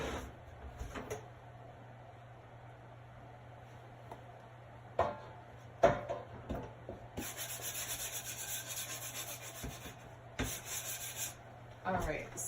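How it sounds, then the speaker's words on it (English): A small sanding disc rubs over painted wood in steady low strokes, broken by sharp taps and clicks and a few brief bursts of bright hiss, all fairly quiet and close. "Alright, so I just quickly sanded it. This is just a little sanding disc that I have."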